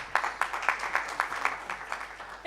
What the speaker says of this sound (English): Another round of applause for that deep message of gratitude.